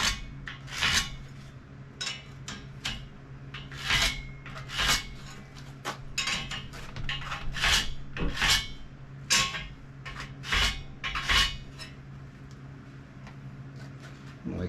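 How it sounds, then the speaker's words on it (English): A broken cutoff wheel scrapes reference marks into the steel frame of a 1932 Chevy hot rod, making a series of sharp, gritty scratches in uneven strokes close by. "we're going to take this broken cutoff wheel, and like I said, we're just going to leave a bunch of reference marks"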